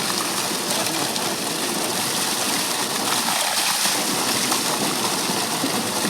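Water at a rural waterpark splashing and gushing in a steady, busy wash of sound, moderately close, with faint voices in the background.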